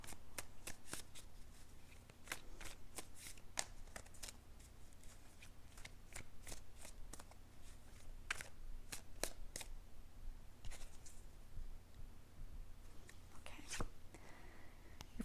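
Tarot cards being shuffled in a long run of crisp riffling snaps and flicks, close up and steady, over a low room hum with no talking.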